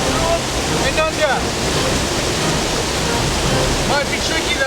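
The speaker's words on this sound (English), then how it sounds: "this water's flowing mighty fast" Fast-flowing water roars steadily at a series of waterfalls in the wild, a loud, continuous broadband rush with faint bird chirps breaking through now and then.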